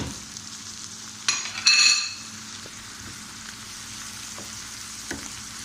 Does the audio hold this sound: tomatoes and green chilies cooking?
yes